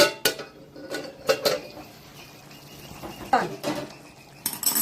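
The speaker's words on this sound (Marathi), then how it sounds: "आता याच्यावर झाकण ठेवायचं दहा मिनटं शिजू द्यायचं" A metal lid is set onto a pot of mutton curry, making several sharp clanks and clinks in quick bursts, close and clear, with quiet gaps between them.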